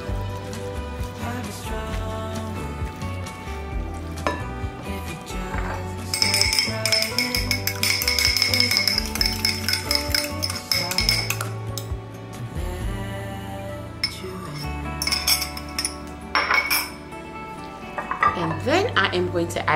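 Salmon croquette mixture is roughly mixed with panko in a bowl, with repeated clattering of a utensil against the dish, close and uneven in rhythm, while a person talks over the clinks.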